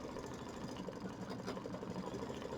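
A sewing machine running steadily through a triple stitch on a mini quilt, a close, even mechanical whir with a fast rapid needle chatter throughout the short stretch, no voices.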